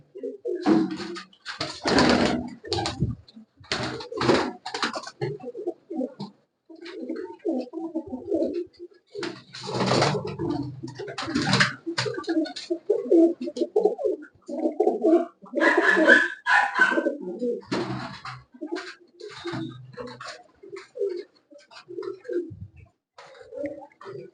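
Black pigeons coo repeatedly at close range, soft throaty calls coming in uneven bursts with short pauses between them.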